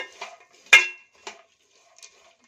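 Dry fruits and walnuts stirred in a pan while roasting for Gokak karadantu, a North Karnataka sweet: a few sparse, close metallic scrapes and clinks of a spoon against the pan, one sharper than the rest, with quiet gaps between.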